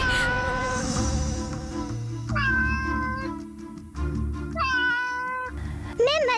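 A cat in a Zee TV drama episode meows repeatedly: four drawn-out, tonal meows spaced a second or so apart, loud and close over a steady background bed, with no clear speech.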